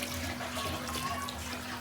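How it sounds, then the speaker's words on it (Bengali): Milk, 250 grams of it, is poured into a rice mix for chicken pulao, producing a steady, close, unbroken liquid stream that runs for the whole short moment. "তো এটাতে আমি 250 গ্রাম দুধ দিয়ে দিচ্ছি।"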